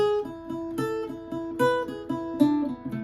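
An Irish bouzouki plays the B part of the jig "Old Hag You Have Killed Me" as a steady run of bright plucked notes that ring over each other. It sounds close and clear, with no talking.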